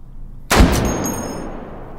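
A sniper rifle fires once in the VR game Hot Dogs, Horseshoes and Hand Grenades, a loud close crack followed by a long rumbling echo that fades slowly, after a quiet lead-in.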